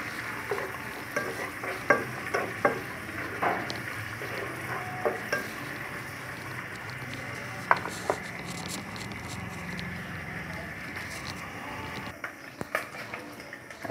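Meat browns in hot oil in a pan for a chayote sauté, a steady sizzle broken by repeated scraping stirs and clinks of the utensil against the pan.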